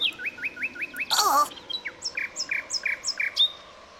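A cartoon bird in a children's show chirps in quick, bright repeated notes, briefly broken by a louder squawk. The chirping then carries on in an even series of short tweets, fairly quiet and clear.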